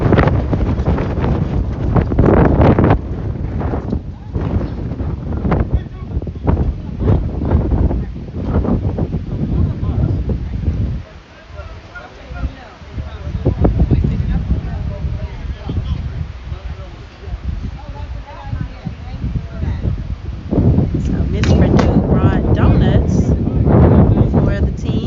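Wind gusts buffet an outdoor college baseball game between Morehouse College and Morris College, a loud, steady roar with rough microphone buffeting that eases briefly in the middle before surging again, while people talk throughout.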